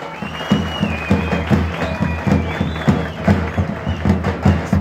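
Crowd at a Manavgat oil wrestling tournament claps in a rhythmic, steady unison beat, loud and close, with cheering voices and a high whistle-like tone drifting over the pulses.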